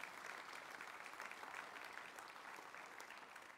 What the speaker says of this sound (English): Can we get a round of applause for all of our people that are donors